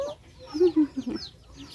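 Market-bought chickens kept as pets give a short run of soft clucks, a few quick notes bunched together over barely two seconds, fairly close and moderately quiet.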